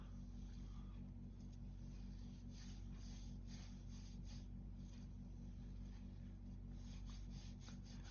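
Fingers rub whiskey-scented beard oil into a beard, working upward from underneath with a soft, continuous scratchy friction. It is very quiet and close, with no talking.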